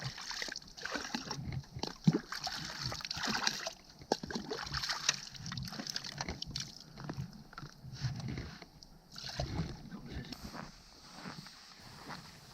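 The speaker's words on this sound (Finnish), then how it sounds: "Tyhjennetään ylimääräinen vesi järvellä." Excess water is emptied out on a lake during a winter ski trek, producing faint, irregular splashing and sloshing close by, with soft trickles between the louder spills.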